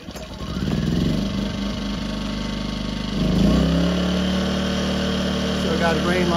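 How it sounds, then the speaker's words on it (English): A Firman W01682 portable generator engine runs steadily at close range, its loud drone shifting to a fuller, heavier tone partway through as load or a second unit comes on. "you start one generator and then you wait until the light turns on"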